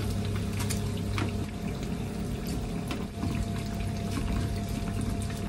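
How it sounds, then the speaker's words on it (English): Glass noodles go into a pot of boiling water for a seafood dish, giving a steady bubbling, hissing wash of liquid with a low hum underneath and a brief dip partway through, and no one talking. "Let's put the noodle."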